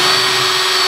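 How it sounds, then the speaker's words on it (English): A power drill whines steadily at full speed while pre-drilling a screw hole in a shelf, one short, loud, continuous burst. "Pre-drill it."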